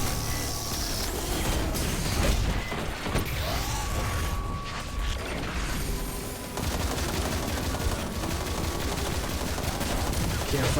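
Light machine gun fire in Destiny 2 PvE combat, dense bursts of loud automatic shots and mechanical clatter running nearly the whole stretch, with a voice talking over parts of it.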